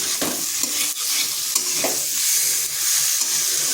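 Elephant foot yam curry, a vegetarian ole dalna, sizzles steadily as it is sautéed and stirred in a pan, with repeated scraping strokes over the frying.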